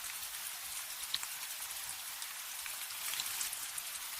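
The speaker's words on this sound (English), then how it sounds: "Drizzle taps lightly on the leaves all around us." Light drizzle pattering softly on leaves in deep woods, a faint, steady scatter of small taps with occasional slightly louder drops.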